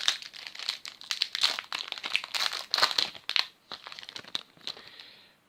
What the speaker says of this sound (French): On va s'ouvrir le dernier booster